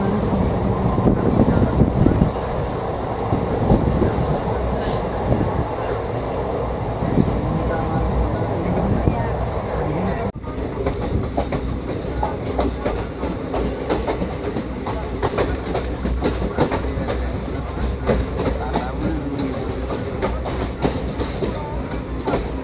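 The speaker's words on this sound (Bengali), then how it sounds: "সিগনাল না পাওয়ার কারণে আমাদের ট্রেন ধীরে ধীরে হয়ে গেছে" Kanchanjungha Express train (ICF coaches, 13174) rolling slowly toward a station, with steady rumbling wheel and carriage noise and faint clickety-clack throughout, close and continuous, with some background voices.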